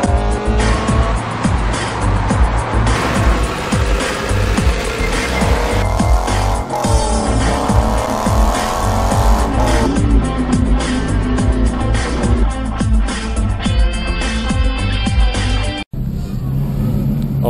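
A Ferrari F430 Spider pulls away on a road trip, its engine loud and close throughout, revving up and down through gear changes with occasional tyre noise, then cutting off abruptly near the end.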